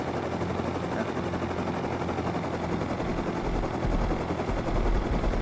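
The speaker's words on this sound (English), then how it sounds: "come back with the chopper" Helicopter in the survival game Rust, a steady loud rotor drone mixed with rapid gunfire bursts throughout a big raid, continuous and close.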